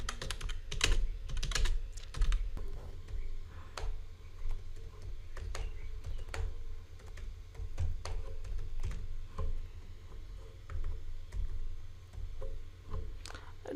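Quick, irregular keystrokes on a computer keyboard clatter close up for several seconds, with bursts of tapping and short pauses and no talking.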